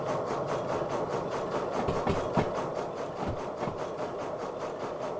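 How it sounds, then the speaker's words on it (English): Steam locomotive straining up a steep grade, a steady rapid chuffing exhaust beat with rhythmic mechanical clanking, continuous and fairly close. "No wonder our locomotive is barely able to do this."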